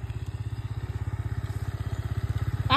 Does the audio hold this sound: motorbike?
yes